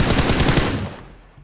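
Rapid automatic gunfire from a PUBG Mobile match, a dense close burst of shots that trails off after about a second.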